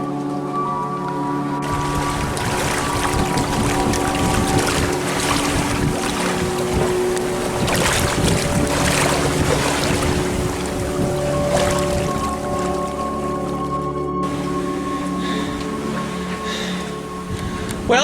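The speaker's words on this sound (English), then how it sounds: "We're sailing!" A sailboat under way makes a continuous rush of wind and water, with waves washing along the hull and wind buffeting the microphone. Faint steady tonal hums sit beneath, and no one speaks.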